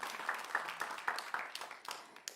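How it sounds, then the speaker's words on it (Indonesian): A debate audience for mayoral and vice-mayoral candidate pairs in Makassar claps in a short burst of light applause, with scattered hand claps that taper off, heard from a moderate distance. "Boleh berikan tepuk tangan untuk seluruh pasangan calon."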